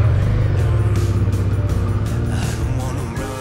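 A motorcycle rides along a fast gravel track with loose stones in Africa, its engine a steady loud drone close by with gritty crunching from the tyres, fading slightly toward the end.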